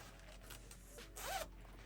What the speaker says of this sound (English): This one has a zipper on the side here